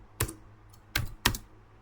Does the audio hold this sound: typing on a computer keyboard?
yes